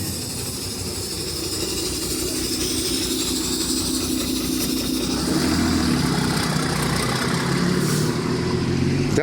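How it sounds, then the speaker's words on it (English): A city bus near a turnabout at Cantacuzino Street gives off a loud, steady mechanical drone and engine rumble, close by, rising in intensity toward the end, with no talk over it. "That sound from the bus"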